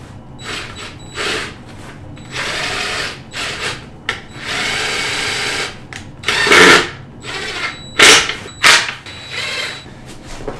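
Power driver running screws into the wooden frame of a sound panel, loud repeated bursts of motor whir with short pauses between each screw, close and without talk.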